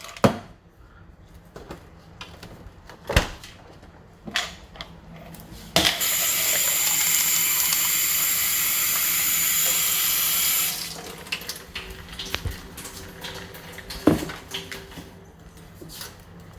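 Water from a tap runs steadily into a sink for about five seconds, loud and close, with scattered clicks and knocks before and after.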